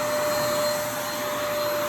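A Riccar vacuum cleaner runs steadily and loudly throughout, a constant whirring motor drone with a sustained high whine and no breaks.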